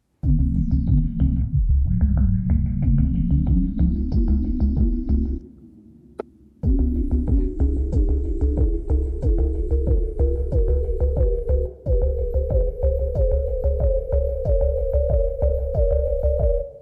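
A synthesizer drone pulses steadily with ring-modulated throbbing, its pitch slowly climbing to build rising tension, broken by a brief near-silent gap before the pulse resumes and keeps rising, loud and alone.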